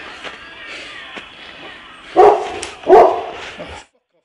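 A dog barks twice in quick succession, close and loud, after a stretch of low background noise and faint movement.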